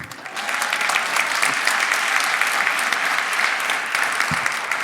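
A crowd at a funding announcement event breaks into sustained, loud applause, steady dense clapping that fills the room throughout.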